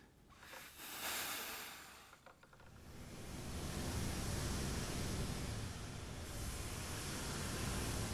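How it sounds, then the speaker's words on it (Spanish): Sea waves recorded at home, a steady broadband wash of surf that swells after a couple of seconds and holds as a continuous rushing hiss. "se alcanza a escuchar detrás de Karol unas olas de mar y un pajarito"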